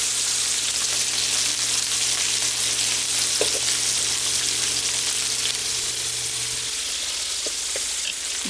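Coated beef stew meat fries in a pan with a steady, loud sizzle that fills the whole stretch, broken by a few faint clinks and stirring touches.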